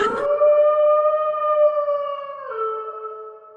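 A lone wolf howl used as a storytelling sound effect in a fairy tale rings out loud and sustained, holding a steady tone before dipping lower near its end, with no other sounds around it.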